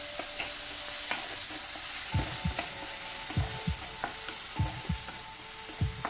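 Vegetables frying in a pan with salt and turmeric, a steady close sizzle with a series of sharp scraping stirs from about two seconds on and no voices.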